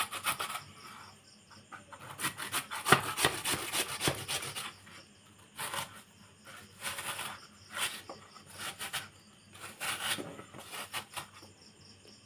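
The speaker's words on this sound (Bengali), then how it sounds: "একটা ঘষুনি নিয়েছি, এই ঘষুনিটা দিয়ে ভালো করে ঘষে নিই।" Potato being rubbed against a hand grater in a home kitchen, making irregular bursts of close, scratchy rasping strokes separated by short pauses, with no one talking.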